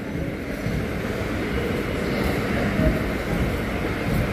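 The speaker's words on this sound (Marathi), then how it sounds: "अरे बघा, या मोटरचा आवाज" Retrofitted EMU local train running between Nerul and Uran, a steady close rumble of traction motor and wheels on rail heard from inside the carriage, continuous broadband noise with no clear speech.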